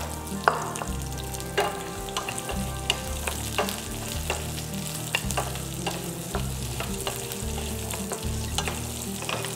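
Sliced onions fry in a pan with a continuous crackling sizzle, punctuated by repeated scraping stirs and the clack of a spatula. The sound is close and busy, with no talking.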